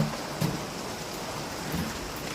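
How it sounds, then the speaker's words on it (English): Water pouring down indoors from a busted drain pipe at a workplace, a continuous rain-like splatter with a couple of heavier splashes, steady and fairly close. "It's fucking raining."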